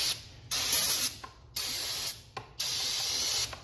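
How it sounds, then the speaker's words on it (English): Carb cleaner sprayed from an aerosol can onto outboard motor reed valves on a Johnson 20-30 HP engine, four close hissing bursts of about half a second to a second each, separated by short pauses. "So I'm going to just kind of spray them with some carb cleaner"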